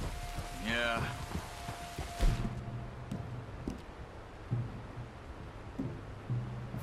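Steady rain in Red Dead Redemption 2 patters on surfaces with scattered heavier drops and low thuds, while a voice murmurs briefly near the start.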